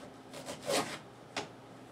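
A kitchen knife slowly saws down through the middle of a tough squash, giving a soft scraping rasp that swells and fades, then a brief second crunch, all fairly quiet.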